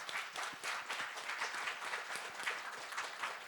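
Warm applause from a crowd at a financial group's annual awards dinner, dense steady clapping that fills the room and continues evenly throughout, no one speaking over it.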